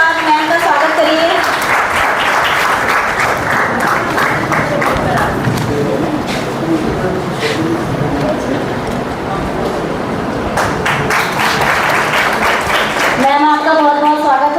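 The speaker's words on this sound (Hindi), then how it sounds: "जोरदार तालियों के साथ मैम का स्वागत करिए।" Loud, sustained applause from a conference audience welcoming a guest at an education research event, dense clapping filling the hall for over ten seconds, with voices speaking over it near the start and end.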